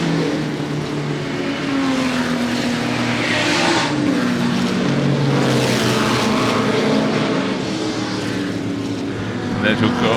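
A pale green ERA race car drives at Goodwood Revival, its engine roaring steadily with rising and falling pitch while a commentator talks over it.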